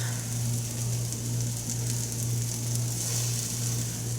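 Infant pancakes frying in a pan make a constant, even sizzle with a low steady hum underneath, continuing without break or talk.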